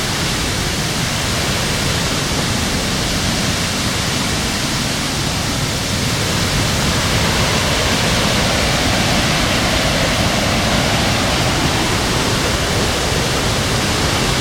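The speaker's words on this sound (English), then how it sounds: "Oh my gosh, I just broke out into waterfall heaven." Waterfall near Hilo, Hawaii, roaring as a loud, steady broadband rush of falling water that stays constant from start to finish with no voices.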